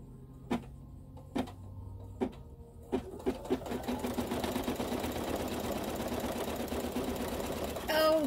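Embroidery machine stitching a quilt block: a few separate mechanical clunks, then a steady fast whirring stitch rhythm that runs on to the end, close and clear.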